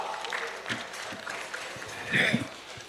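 Crowd applause at a Gwanghwamun veterans' rally welcomes the chairman of a colonels' association of the army, navy and air force: steady broadband clapping swelling briefly near the end, with voices mixed into the noisy outdoor crowd.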